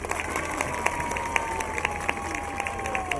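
Crowd applause at a festival parade, steady clapping with scattered sharper claps and a faint musical tone running underneath, moderately distant and continuous throughout.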